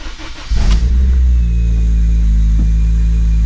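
Turbocharged car engine fitted with long tube headers and a raspy muffler, revving up sharply then holding a deep, loud, steady growl close by, with no talking.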